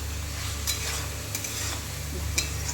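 Fish and spices fry in a pan while a spoon stirs them, giving a continuous sizzle with a few brief scraping accents spread across the stretch.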